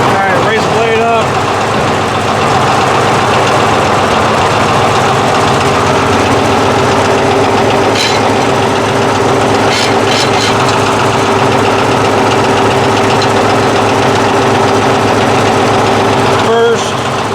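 An old Caterpillar D8 bulldozer, unused for over twenty years, runs with a steady, loud, low diesel drone and rough knocking idle that continues throughout, with some faint clanks on top.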